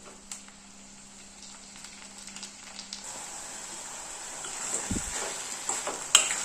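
Tomatoes simmer under a lid in a pan while cooking down for a South Indian thakkali thokku, giving a faint, steady sizzle and bubbling with a few soft clinks and stirring taps.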